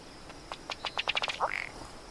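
Duck quacking heard in birding footage: a quick run of short, nasal calls speeding up, then a brief squeaky trailing note, moderately close with no talk.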